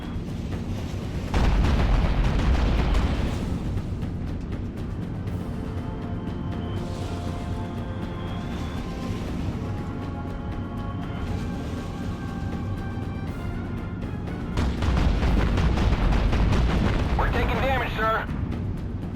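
Warship broadside gunfire in the naval combat game Battlestations Pacific: deep rumbling booms over a dense low roar, with heavy blasts near the start and again toward the end, layered with game music and radio-style voices.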